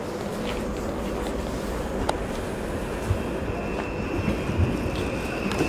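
A Stadler FLIRT passenger train passes a Polish station platform, a steady broad rumble of wheels and running gear with faint clicks and a thin high squeal, continuous throughout and fairly close.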